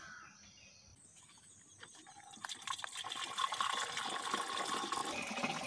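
Liquid panchagavya is poured through a filter, starting quietly and building into a continuous trickling, splashing stream that stays fairly faint throughout.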